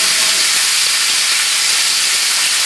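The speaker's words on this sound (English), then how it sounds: "I'm just going to sear this, and then I'm going to grill it." Beef tenderloin searing on a hot grill pan, a loud, steady, broad sizzling hiss that holds unbroken throughout, close and alone.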